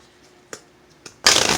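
A tarot deck being shuffled, with two light card taps and then a brief burst of loud riffling close to the mic at the end.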